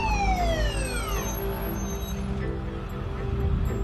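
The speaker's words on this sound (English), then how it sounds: "On May 14, 1999, Reverend Guthrie called an ambulance" A loud ambulance siren wails continuously with a falling then steady tone, close and dominant over traffic rumble, with no voices.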